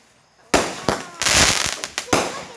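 Fireworks going off at a show, a loud sudden burst followed by several crackling, popping explosions in close succession, with voices faintly present.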